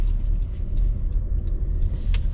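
Low rumbling car engine and tyre noise as the vehicle creeps slowly through a right turn on a driving test route in Belleville, Ontario, steady and close with no talking.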